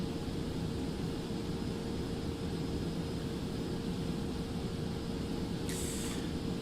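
A Cessna Citation X jet in the X-Plane 12 flight simulator takes off with a steady, even engine roar and rumble that holds constant throughout, with no talking.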